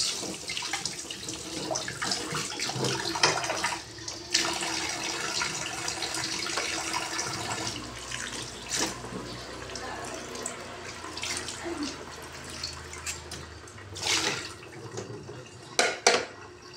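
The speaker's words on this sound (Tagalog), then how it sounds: "Dito lang natin hugas." Running tap water splashes steadily into a sink while raw chicken is rinsed by hand, a continuous near hiss broken by irregular sloshes and clatters.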